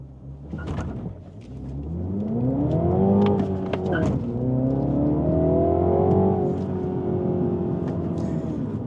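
A 2024 Mini John Cooper Works 1to6 Edition with a manual gearbox accelerates in sport mode, its engine note rising from a low hum into a strong, climbing drone. It dips at one point, then pulls up again, heard close from the cabin without speech.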